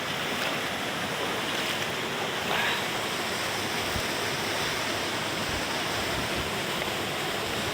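A mountain waterfall stream, a sapang talon, pours in a loud, constant, close rush of white water that fills the scene without letup, and no one speaks.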